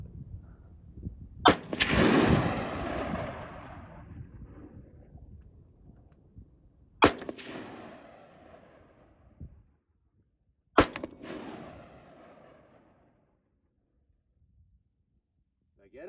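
Three sharp gunshots ring out against homemade body armor built from layered nylon shopping bags over a 3A backer plate, each a loud crack followed by a decaying rumble, spaced several seconds apart with quiet gaps between.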